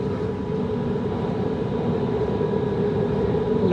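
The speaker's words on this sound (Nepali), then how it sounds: "मेट्रो" A Doha metro train in Qatar runs through an underground tunnel, giving a steady loud rumble and roar that holds evenly from start to end with no voices.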